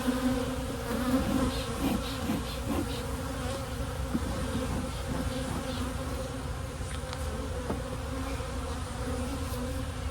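A honeybee colony drones in an opened hive whose brood chamber was reversed, a dense continuous buzz close by with individual bees flying past now and then.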